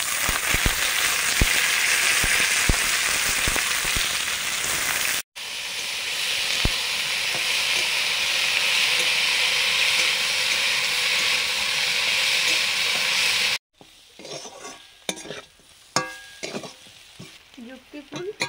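Jhuri flowers fry in a pan with potato, eggplant and salt, sizzling and hissing up close with stirring, and the sizzle cuts out twice before turning into scattered softer clatter.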